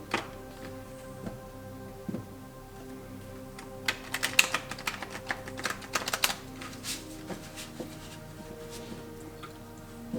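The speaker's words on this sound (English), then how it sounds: "Let's give it a gentle riffle." Vintage Aquarian tarot cards are gently riffle shuffled, giving soft, quick bursts of fluttering card clicks at close range, quiet and irregular, without talk.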